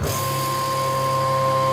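A vacuum sealer machine runs while sealing a pouch of meat, producing a loud, steady motor hum with a constant whining tone and no break, close by.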